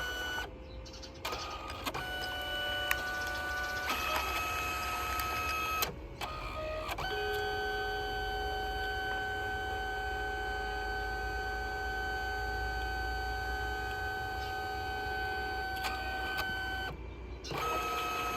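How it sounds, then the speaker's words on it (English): A Liene Amber printer works through a print job in a shop, giving a continuous mechanical whir with steady motor tones, short pauses and shifts in pitch as the print head moves, loud and close with no talk. "then the printer is going to handle the whole print job"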